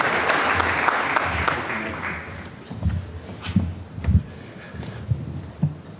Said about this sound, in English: give him a round of applause and thank him for what we're doing here today